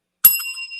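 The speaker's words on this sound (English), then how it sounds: "that was a decent bell" A single bright bicycle-bell-like ding rings out sharply and close, then its metallic tone rings on and fades over under a second, with no talk.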